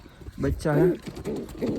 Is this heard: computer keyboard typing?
no